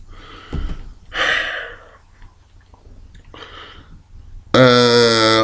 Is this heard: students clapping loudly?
no